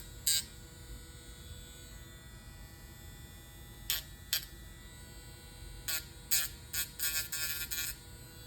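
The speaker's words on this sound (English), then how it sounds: "I definitely recommend lowering your Dremel speed to like a 2 or a 3." Dremel rotary tool at low speed grinding support artifacts off a 3D-printed figure, faint buzzing bursts that come in short, irregular touches over a quiet hum.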